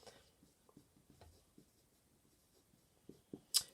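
Faint, soft tapping and scratching of writing on a board in a quiet classroom-style setting, a loose series of light strokes ending in a brief sharper squeak.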